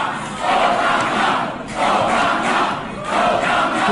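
A protest crowd shouts and roars together in loud, sustained waves, the chanting swelling and easing several times with no single voice standing out.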